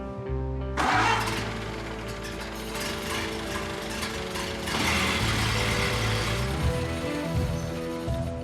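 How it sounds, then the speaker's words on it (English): A Ford Model A car engine cranks and catches, then settles into a loud, steady idle with slight rhythmic variations. "the engine started right up and sounded really good"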